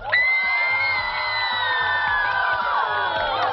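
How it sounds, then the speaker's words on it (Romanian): Children at a kendama camp cheering for Schuster: a loud, continuous wave of high-pitched shouting and screaming voices, sustained for several seconds at steady volume with a little clapping mixed in. "Aplauze pentru Schuster!"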